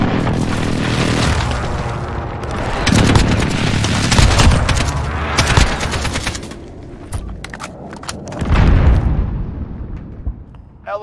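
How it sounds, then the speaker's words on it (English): Airstrike explosions in the video game Call of Duty: Modern Warfare: heavy booms and rolling blasts mix with bursts of rapid gunfire, loud and continuous with surges and lulls, ending in a final deep impact before quieter scattered shots. "Allied precision airstrike incoming"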